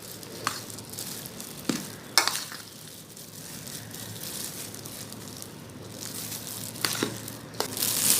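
Raw mango pieces coated in masala for pickle are stirred and tossed, giving soft, wet, crinkly squelches with a few sharper clicks, close and fairly quiet with no talking.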